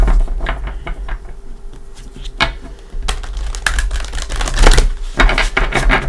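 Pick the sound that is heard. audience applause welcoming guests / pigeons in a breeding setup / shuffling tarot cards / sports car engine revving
shuffling tarot cards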